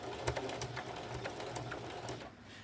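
Sewing machine running a zigzag stitch on purse straps, with stitch length near 2 and width about 4.5. A close, steady whir carries quick rhythmic needle clatter throughout, with no voices.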